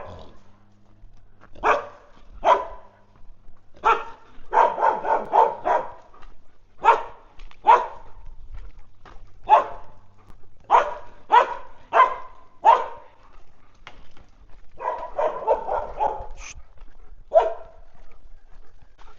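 A shelter dog barks repeatedly in reaction to other dogs, sharp loud barks coming singly and in rapid clusters of three or four, close by with no talk.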